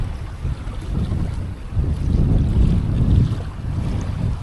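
Strong wind buffets the microphone on a UK sea shore during bass lure fishing, a loud continuous rumbling roar that swells in the middle, with no speech.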